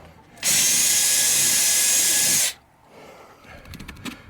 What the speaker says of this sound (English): I'll have to drill the other one out from the inside.